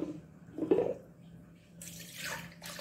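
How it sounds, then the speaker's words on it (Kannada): Water is poured into a finely ground cucumber paste to thin it into dosa batter: a low, muffled stretch, then a bright, steady trickling pour that stops and briefly resumes. "ಈಗ ಇದಕ್ಕೆ ಸ್ವಲ್ಪ ನೀರನ್ನು ಸಹ ಹಾಕ್ಕೊಂಡು,"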